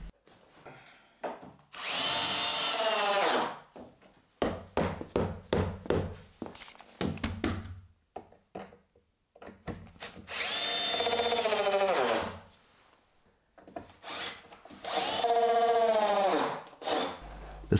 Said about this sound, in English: then I get the screws driven in